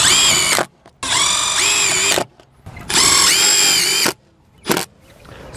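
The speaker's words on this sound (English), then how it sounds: "as you shoot these screws in, you may see the butyl tape kind of shooting out" A power drill drives screws into an RV slide-out awning bracket on a 2019 CrossRoads Sunset Trail Super Lite trailer: four close, loud whirring bursts, three long and one short, separated by brief pauses.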